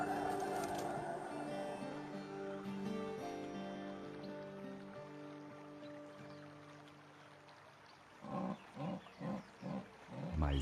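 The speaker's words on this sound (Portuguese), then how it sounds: "Outra onça fêmea está chamando por um macho" A female jaguar in the Brazilian Pantanal calls for a male, giving a series of five rhythmic, grunting rasps near the end over a low wild ambience, moderately loud and close.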